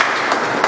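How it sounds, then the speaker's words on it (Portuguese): A church congregation claps hands in praise during a worship service, a dense, steady burst of many hands applauding at close range with no pauses. "E que as palmas louvem a Deus"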